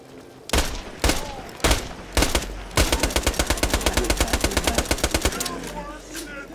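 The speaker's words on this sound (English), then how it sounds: "I just missed every shot." Gunfire in the video game Borderlands 2: a few heavy single shots, then a fast, steady automatic burst of loud, close shots lasting a few seconds before it cuts off.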